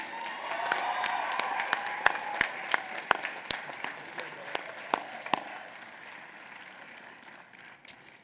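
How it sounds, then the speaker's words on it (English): A graduation audience at a Union College commencement applauds the faculty, dense clapping with a few sharp individual claps standing out near the front, swelling briefly and then tapering off toward the end. "would you also all join me with a round of applause in thanking the members of the Union faculty"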